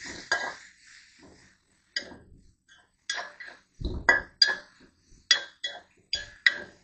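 Food being stirred and mixed in a pot while cooking, with a series of clinking, scraping utensil strokes against the pot in irregular bursts, close and moderately loud.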